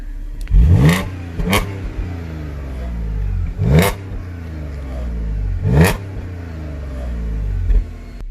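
Audi S5 engine revved while parked, four or so sharp throttle blips rising and falling over a low steady idle, close and loud, alone without talk.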